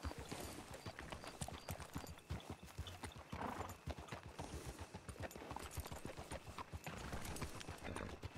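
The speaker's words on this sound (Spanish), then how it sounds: "viendo su caballo, tipo de cabeza, musculatura y forma física, bonito turcomano." A Turkoman horse's hooves clip-clop in a steady, fairly fast rhythm within the RedM western roleplay game, close and continuous, with a faint background ambience.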